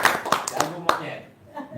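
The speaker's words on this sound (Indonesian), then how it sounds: "Tepuk tangan dulu dong buat Haji Marco." Audience clapping for Haji Marco at a lively Indonesian stage show: a handful of scattered claps ring out over ongoing talk, then fade out.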